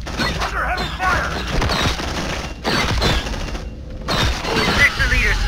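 Heavy gunfire erupts in the sci-fi squad game Aliens: Dark Descent, with loud, close bursts, mechanical clatter and booms in rapid waves, broken by short gaps, while voices shout over the combat.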